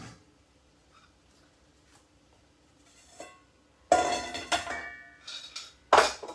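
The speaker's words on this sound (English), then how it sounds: "Alright, then put your wok cover on." Clanking metal and clinks as a wok cover is set onto a wok during a shrimp stir fry, with a few soft handling sounds before two louder ringing knocks near the end.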